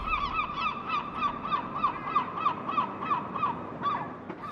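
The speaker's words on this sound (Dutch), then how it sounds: "Je hebt de meeuwen." Seagulls call over a city in a steady series of repeated squawking cries, moderately close, with a low murmur of urban background beneath.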